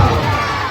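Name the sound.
crowd cheering at Ganpati immersion at a pond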